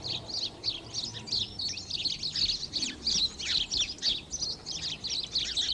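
House sparrows in St James's, London, chirping and singing in a busy overlapping flurry of short bright calls, fairly loud and continuous over a faint low background.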